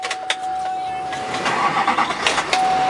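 A 2009 Chevrolet Silverado 2500HD pickup engine cranks briefly with a few uneven bursts, then catches and settles into a running idle, with a faint steady tone in the background.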